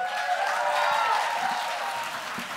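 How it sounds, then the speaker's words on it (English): Audience applause at the Verselandia 2013 poetry slam, a dense, sustained wash of clapping from a crowd, steady and even throughout with no talk over it. "a round of applause for our fishbowl lady"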